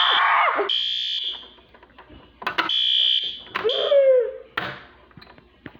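A building fire alarm blares during a test, sounding in repeated loud tonal bursts broken by short gaps, with a voice briefly heard between the blasts.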